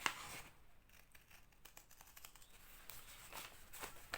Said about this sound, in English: But I have seen Tina take her scissors and just go along right on the edge,